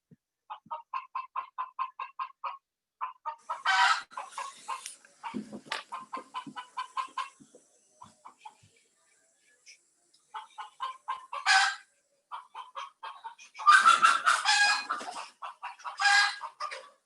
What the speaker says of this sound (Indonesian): saya harus singkirkan dulu ini ayam